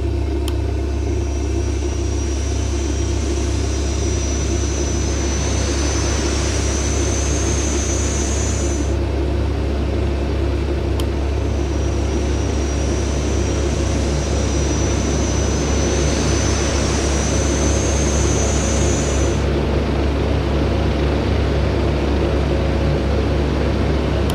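Saab 340B turboprop engines starting up in a flight simulator, a steady loud whine and roar with two rising high-pitched tones, continuous throughout with no talk.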